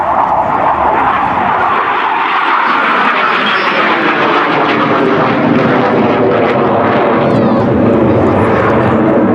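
A Hawker jet aircraft, Hawker's first jet for the Royal Air Force, roars steadily and loudly past the crowd at the Culdrose Air Day, its broad engine noise sweeping in pitch as it flies by, with a commentator talking over it.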